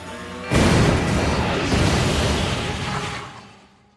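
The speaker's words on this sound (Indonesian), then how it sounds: "sebuah ledakan terjadi" A sudden loud blast hits, followed by a long roaring, crackling rumble that slowly fades out over a few seconds.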